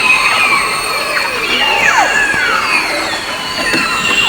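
A group of male beluga whales vocalizes underwater in the St. Lawrence River Estuary on a quiet morning with no boats, a dense overlapping chorus of high whistles, chirps and squeals over a steady background hiss.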